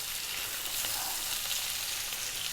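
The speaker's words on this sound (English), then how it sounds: "We're now going to drop in those optional chili." Steady loud sizzling of whole chilies frying in a beef brisket stir fry, a dense continuous crackle close up with no break and no voices.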